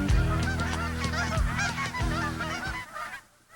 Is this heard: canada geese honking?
yes